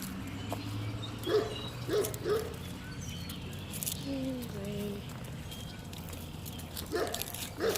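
Dogs bark outdoors in a few short bursts at a moderate distance, with birds chirping and a steady background hum while a person talks nearby.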